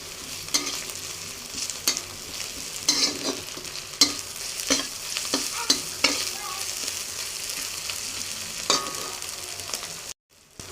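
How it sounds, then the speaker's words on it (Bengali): A spatula scrapes and stirs ginger garlic paste with onions in a frying pan for an egg and potato curry, steady sizzling under repeated sharp scraping strokes, close and alone. "আমি এর মধ্যে এখন কিছুটা আদা রসুন বাটা দিয়ে দিব এবং এটাকে ভালোভাবে নেড়ে নেব"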